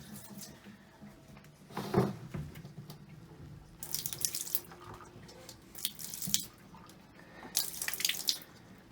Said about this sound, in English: I'm going to let some sanitizer just run through and open the spigot a couple of times